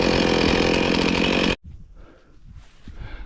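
Chainsaw engine roaring loudly and steadily at close range while felling leaning trees, then cutting off abruptly halfway, leaving faint outdoor rustling.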